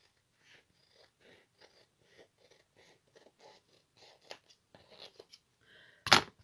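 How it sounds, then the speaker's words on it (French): Scissors cut a paper napkin for mail art, a quiet close series of crisp snips with a rhythmic, irregular pace, ending in a sharper louder snip. "Je vais aussi découper ce qui dépasse ici."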